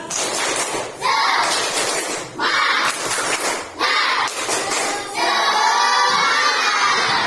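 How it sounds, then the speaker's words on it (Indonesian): Sixth-grade pupils in a madrasah classroom perform a rousing clapping chant, with loud group claps alternating with shouted unison chanting, ending in a long, energetic shout. "Terus selanjutnya tepuk semangat."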